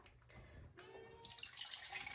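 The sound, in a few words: water being poured into a pot of pumpkin soup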